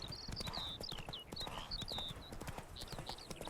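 Horse hooves clip-clop steadily and close in The Witcher 3, the spooked horse snorting and whinnying over the rapid footfalls.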